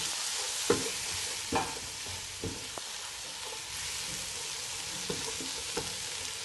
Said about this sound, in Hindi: तो हम इसमें टमाटर डाल देंगे। टमाटर को भी हमें ज़्यादा फ्राई नहीं करना।